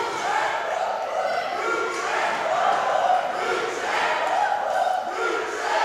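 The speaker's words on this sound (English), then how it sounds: "And this crowd is chanting." A wrestling crowd at the Monroe National Guard Armory in North Carolina chants in rhythmic waves, a dense roar of many voices rising and falling in a steady cadence, loud and continuous.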